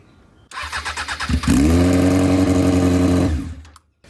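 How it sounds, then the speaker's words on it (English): Honda F4i motorcycle fuel pump switched on: a quick series of close pulses, then a steady loud hum lasting about two seconds that cuts off cleanly. "Fuel pump."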